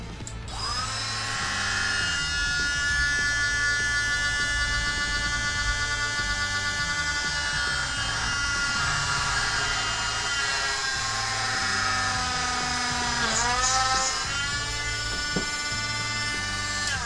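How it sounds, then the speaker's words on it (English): A small drill whirs steadily at high pitch for a long stretch into a small plastic figure, dipping briefly as it bites, close up with no talk. "Okay, let's get drilling."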